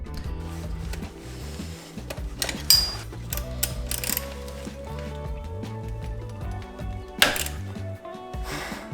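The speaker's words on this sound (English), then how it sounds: "it's a good idea to loosen the pin that holds the brake pads in" Ratcheting and clicking from tools working the brake pad pin on a Yamaha MT-10 motorcycle caliper, a string of irregular close mechanical clicks and metallic taps with low background hum.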